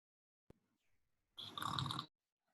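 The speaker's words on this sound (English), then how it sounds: "dogs are snoring in the background there" Dogs snore in the background of a room, a single soft, raspy, drawn-out snore after a brief click, faint and distant with no talk.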